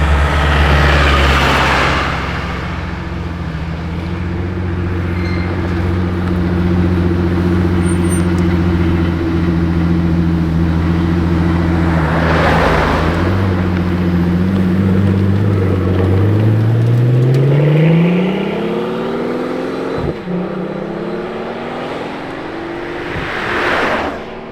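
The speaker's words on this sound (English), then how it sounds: "there is nothing like a Pagani on the road" A Pagani Utopia supercar drives out onto the road, its engine droning steadily and loud, the pitch rising as it accelerates, with passing traffic whooshes and no talking.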